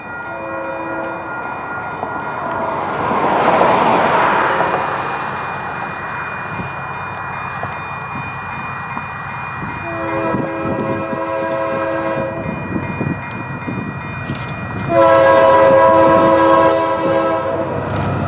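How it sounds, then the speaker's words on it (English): A Union Pacific northbound train rumbles past in Bonnie, Illinois as its horn blasts in long, loud, harmonic blows, fading briefly before another close, sustained horn call. "we saw a northbound headlight, so there was a train coming."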